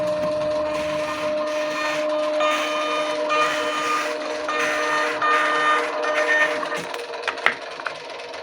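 A printer with a built-in keyboard prints numbers onto an acrylic license plate, giving a steady mechanical whir with repeated carriage passes and faint tonal hums, ending in a few sharp clicks.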